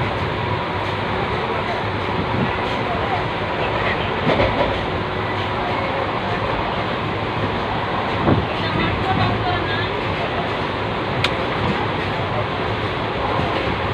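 Inside a moving passenger train on the Kolkata to Haridwar route, a constant loud rumble and rattle of the carriage fills the space, with faint rhythmic rail clicks and passengers talking under the noise.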